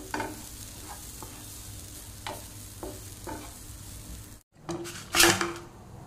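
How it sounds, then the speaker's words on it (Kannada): Grated coconut with turmeric frying in a pan, a soft sizzle with several scraping stirs of a spatula, then a brief pause before a louder burst of sizzling and clattering. "ಅದಕ್ಕೆ ಸ್ವಲ್ಪ ಅರಸಿನವನ್ನು ಹಾಕಿ ಸ್ವಲ್ಪ ಫ್ರೈ ಮಾಡ್ತೇನೆ."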